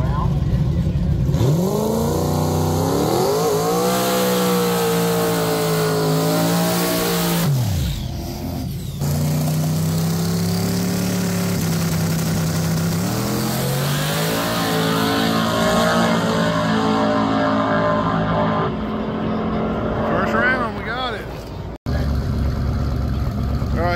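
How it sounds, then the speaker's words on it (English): A Ford Mustang and a Chevy Camaro at a 704 Outlaws small tire drag race, engines loud and close, revving and climbing in pitch through long pulls with brief breaks between, some crowd talk mixed in. "Ford versus Chevy here. Camaro versus Mustang"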